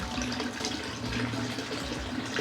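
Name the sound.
water poured over newborn baby during bath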